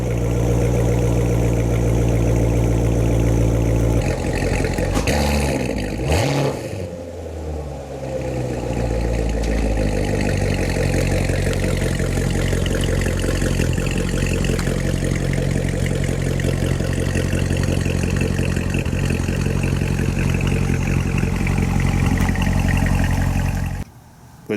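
A Chevrolet Corvette C7 is started outdoors on a winter day: the starter whirs, the engine barks into a loud high idle, then settles to a steady, deep rumbling idle close by.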